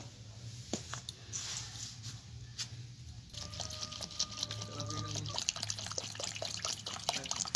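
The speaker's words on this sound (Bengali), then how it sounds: "চিড়ের পোলাও বানানোর জন্য আমি চিড়েগুলোকে ধুয়ে নেব" Flattened rice (chira) is rinsed in water for pulao, with drips, trickles and sloshing from handling it in a bowl. A low hum runs beneath, and the splashing grows busier toward the end.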